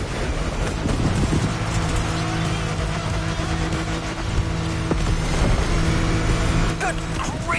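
An off-road car in The Crew Motorfest races downhill at full speed, its engine roaring continuously and loudly with rumbling terrain noise and wind throughout.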